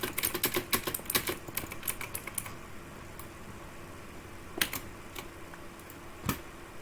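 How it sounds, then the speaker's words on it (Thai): Rapid clicking of keys on a computer keyboard, a quick burst of typing that thins out into a few scattered taps. "เคเสียงคีย์บอร์ดจะดังนิดนึงนะครับ"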